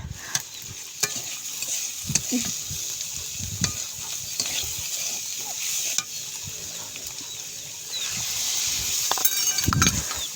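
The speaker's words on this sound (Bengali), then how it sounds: "এমনভাবে কষাতে হবে যেন তেলে ওটা আরও ভাজা ভাজা হলো" Bean seed dal being stirred and fried in oil in a pot, with a steady soft sizzle and scattered scraping stir strokes, the loudest of them near the end.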